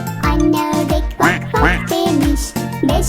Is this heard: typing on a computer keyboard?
no